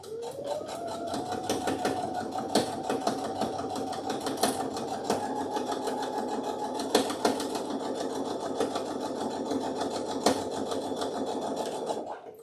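A sewing machine whirs up and runs steadily at speed, its rapid needle chatter buzzing continuously at close range.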